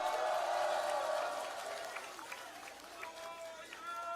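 An outdoor campaign rally crowd applauds and cheers, a loud wash of clapping that fades after the first second or so, with a voice over a loudspeaker talking across it.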